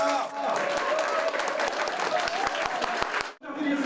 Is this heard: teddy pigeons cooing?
no